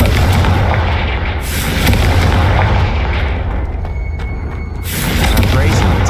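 Confringo fire spell cast in the Hogwarts Legacy video game, a loud booming explosive blast with rumbling tail, followed by a second heavy burst a few seconds later.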